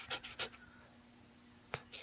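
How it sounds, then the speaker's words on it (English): Faint, quick breathy puffs of a puppy panting close by, a few short breaths with a soft click between them. "This is a close-up of a happy puppy."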